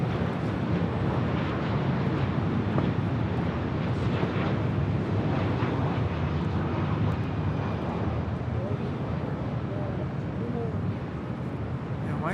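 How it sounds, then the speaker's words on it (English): Alaska Airlines Boeing 737-900ER arriving at Los Angeles International from Seattle, a steady loud broadband jet roar filling the whole stretch, with people talking faintly underneath. "This is Alaska 1306 coming in from Seattle on a 737-900 ER."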